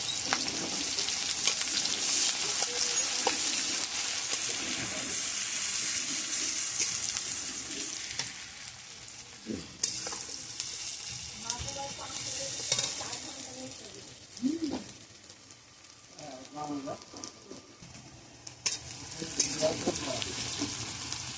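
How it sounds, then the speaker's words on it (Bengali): Onions fry in oil with whole cinnamon, cardamom, cloves and bay leaf, a close sizzling hiss broken by repeated stirring and scraping in the pan. "পেঁয়াজগুলোকে একটু ভাজা ভাজা করবো।"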